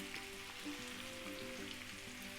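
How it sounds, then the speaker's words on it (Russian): Chicken liver frying with onion in a pan, giving a soft, steady sizzle and crackle heard close but quietly, with no voices. "И теперь печень будет жариться в луке и одновременно напитываться его соками."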